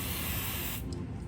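Short burst of Supertech spray lubricant aimed at an old, rusted, sludge-covered engine crank, a close steady hiss that cuts off abruptly partway through.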